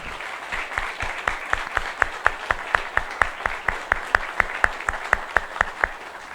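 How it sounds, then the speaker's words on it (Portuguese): Rhythmic unison clapping from an audience honoring rural producers at an agribusiness caravan event in Torrinha, steady claps of roughly three per second, fairly close and clear over a low room murmur. "Quero pedir uma salva de palmas agora para vocês, produtoras e produtores rurais"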